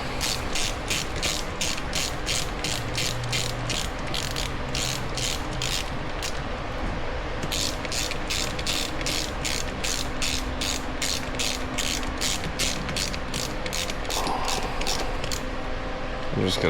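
A ratchet clicks rapidly and loudly up close while snugging rocker cover bolts on a Honda CRF100 engine being rebuilt to a 115cc big bore, in quick bursts with one short pause midway.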